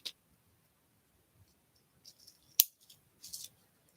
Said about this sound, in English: Go ahead and cut this wire.